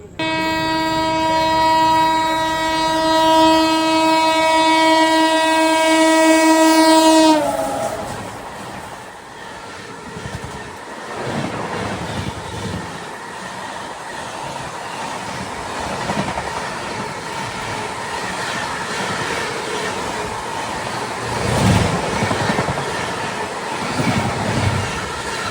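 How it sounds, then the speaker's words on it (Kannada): Sanghamitra Superfast Express from Bengaluru's Sir M. Visvesvaraya Terminal to Danapur, Bihar, approaching from behind with a long, loud horn blast, then a steady rumble and clatter of wagons rolling past close by for a sustained stretch. "ಹಿಂದಿಂದ ಬರತೈತಿ ಸರ್ ಎಂ ವಿಶ್ವೇಶ್ವರಯ್ಯ ಟರ್ಮಿನಲ್, ಬೆಂಗಳೂರಿನಿಂದ ದಾನಾಪುರ್ ಬಿಹಾರಿಗೆ ಹೋಗುವಂಥ ಸಂಘಮಿತ್ರ ಸೂಪರ್ ಫಾಸ್ಟ್ ಎಕ್ಸ್ಪ್ರೆಸ್."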